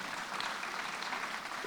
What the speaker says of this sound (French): on peut applaudir toutes les personnes qui se mobilisent